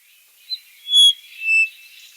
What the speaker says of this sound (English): this tiny little brown-throated wattle eye